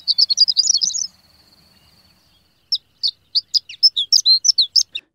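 Horned lark calls: a rapid run of high, thin tinkling notes and a trill, a pause, then a string of separate bright chirps, clear and fairly close with no talk.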